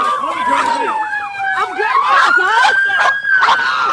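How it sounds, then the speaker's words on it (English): A police cruiser siren wails during a high-speed chase, a loud, close sweeping tone rising and falling continuously, with a yelp-like burst and road noise around it. "again accelerating away from the police cruiser with the emergency lights and sirens still on"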